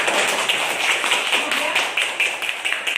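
Classroom applause for a student who answered correctly, a short burst of brisk, fairly close clapping from a group of pupils that keeps going steadily under some background voices.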